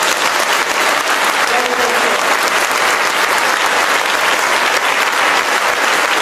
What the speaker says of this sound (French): acclamons très fort pour son